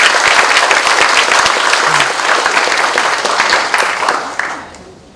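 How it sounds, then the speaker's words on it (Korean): A staff meeting audience applauds steadily to welcome a presenter, a dense wash of many hands clapping at close range for about five seconds before tapering off at the end. "큰 박수로 모시겠습니다"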